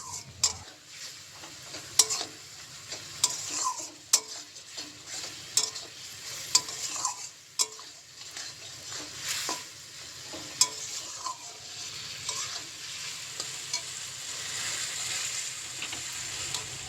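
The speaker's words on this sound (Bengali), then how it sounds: "আর পেঁয়াজ টমেটোটা ভেজে নিয়ে আর কি আদা রসুন লঙ্কা সব কিছু দিয়ে মশলাটা করে নিচ্ছি।" Onion and tomato fry with ginger, garlic and chilli masala in a pan, a soft steady sizzle broken by repeated sharp spatula scrapes and clinks against the metal.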